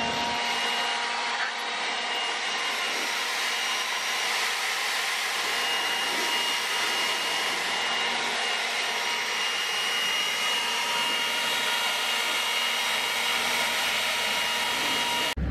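A leaf blower runs continuously while clearing debris off a concrete slab at a construction site, producing a steady, fairly loud broadband rushing roar with no voices.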